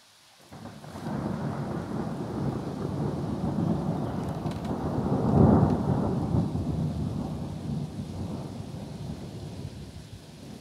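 Thunderstorm near Grenoble in the Alps, with steady rain hissing on surfaces and a deep rumble of thunder swelling in the middle before easing, no voices.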